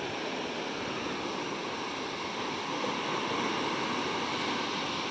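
Large ocean waves wash steadily onto a littered beach by Masjid Al-Hakim in Padang, a continuous loud roar of surf with no voices.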